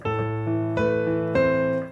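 A simple piano melody of three sustained notes, each struck clearly and left ringing, played slowly and evenly.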